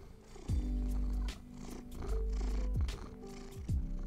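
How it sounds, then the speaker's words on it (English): A cat purring close into a microphone, deep rhythmic rumbling cycles with breathy pauses between, loud and intimate with no talking. "See if he'll purr into the microphone."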